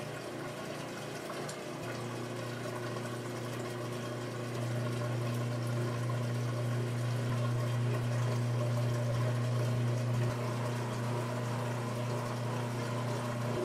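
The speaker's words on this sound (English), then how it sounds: "The motor should start running on the drain and spin direction." A Whirlpool washing machine motor running in drain and spin mode: a steady, even mechanical hum with a watery pumping wash underneath, constant and fairly quiet throughout, with no one talking.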